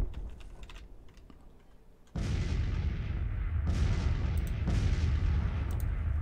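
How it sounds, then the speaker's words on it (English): Confederate artillery fire in Grand Tactician: The Civil War, a few heavy booming cannon blasts that kick in abruptly and roll on, with a sharp clicking rattle heard quietly beforehand. "Sounds like Confederate artillery has begun to fire on Burnside."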